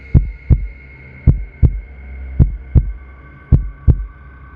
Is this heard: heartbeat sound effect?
yes